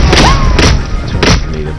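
A loud, close grenade blast in the tactical shooter Ghost Recon, heavy booming thuds with a short rumbling tail, coming in quick bursts over about two seconds.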